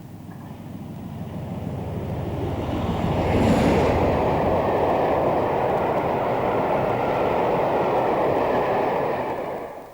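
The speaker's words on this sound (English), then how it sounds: "Heading in the opposite direction is the 1244 Plymouth to Shildmuir Postal." A mail train, the 12:44 Plymouth to Shildmuir postal service, runs past on a British Rail line in 1999, a steady loud roar of wheels and rumbling wagons that swells as it comes near and stays full for several seconds.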